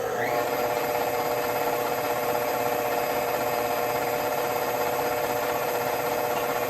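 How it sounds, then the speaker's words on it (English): Eggs being whisked into meringue for a blood orange cranberry pavlova, likely by an electric mixer, giving a steady, continuous whirring drone that holds at even loudness throughout with no talking. "Now we're gonna keep whisking these eggs for about 2 more minutes"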